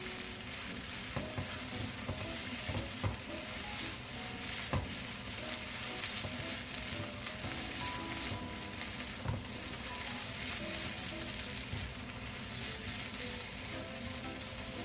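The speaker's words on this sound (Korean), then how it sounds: "볶아주세요." Kimchi fried rice stir-frying in a pan, a continuous close sizzle with scattered sharp clicks and scrapes of the spatula, steady and alone without voices.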